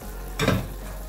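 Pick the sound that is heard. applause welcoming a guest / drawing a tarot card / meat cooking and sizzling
meat cooking and sizzling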